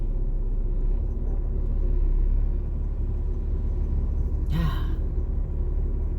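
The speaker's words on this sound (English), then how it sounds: "Where's this traffic coming from?" Passing road traffic makes a steady, close low rumble throughout, with a brief hissing burst near the end.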